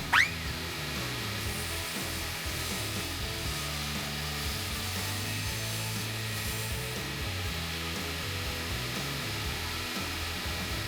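A power saw cuts through a scrap plywood board in a woodshop, a steady loud whining buzz that runs continuously for about ten seconds after a brief sharp onset.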